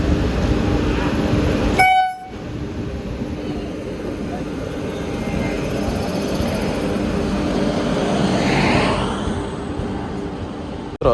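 Mumbai-bound passenger train pulling out of Bhatia railway station in Gujarat, a broad rumbling roar that dips after a sharp noisy burst, then swells gradually as the train moves off, with a voice talking over it.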